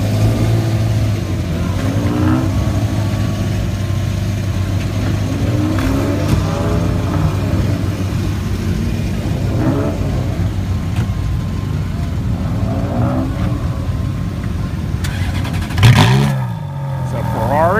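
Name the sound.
exotic sports car engine revving on city street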